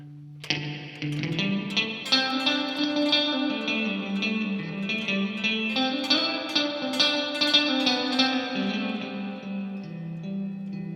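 Electric guitar played through a Walrus Fundamental reverb and delay pedal, a steady melodic line of plucked notes with a lush wash of echo and reverb trailing behind each note, fairly loud and with no talking.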